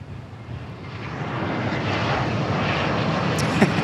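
Airliner at DFW Airport, a loud broad roar of jet engines building steadily and holding close, heard on its own without talk.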